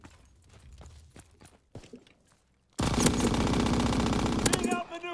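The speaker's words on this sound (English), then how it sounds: "Oh, that was horrible shooting." Rapid automatic gunfire from a Call of Duty match bursts in loud and sustained after quieter scattered shots and movement, a dense fusillade continuing to the end.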